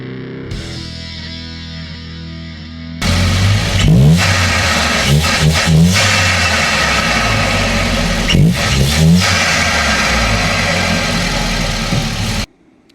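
A 1997 Volvo 940 2.3 turbo Celebration car engine runs loud and close after a quieter opening. It idles roughly and revs up sharply several times, then cuts off abruptly at the end.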